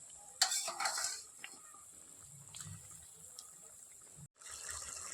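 Fried potatoes tipped into a boiling chhana gravy for chhana dalna and stirred, with a clatter of spoon on pan at the start, then a soft steady bubbling and scraping close by.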